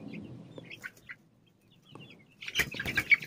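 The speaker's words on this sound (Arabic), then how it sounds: "توفرت البركه ديال الفلوس ديال لي جورن دوري والاسترال الاسود، سلالات حره" Young Leghorn and black Australorp chickens, about 40 days old, make scattered soft clucks and chirps close by, followed by a louder burst of wing flapping and scuffling near the end.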